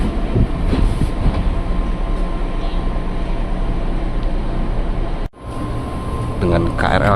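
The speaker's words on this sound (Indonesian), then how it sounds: "kita berangkat dari jalur 12 stasiun Manggarai" A KRL commuter train pulls out of track 12 at Manggarai station, giving a steady close rumble with rhythmic clacking of the wheels. Near the end there is a sudden brief drop before the running noise resumes.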